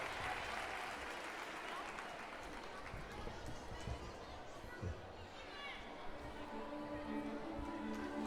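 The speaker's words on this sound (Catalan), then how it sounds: "Aplaudiment. Més fort!" Applause from an audience at a school end-of-year party, with many hands clapping at a low, distant level and crowd chatter and children's voices mixed underneath throughout.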